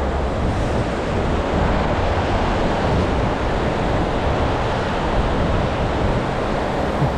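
Strong wind buffets the microphone beside open water during a tilapia fishing outing, a steady loud roar with surf-like wash throughout and no voices.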